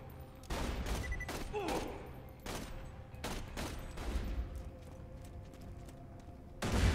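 Gunfire from a weapon in the video game Borderlands 2 comes as a rapid series of sharp shots in short bursts, fairly loud, with a final blast at the end.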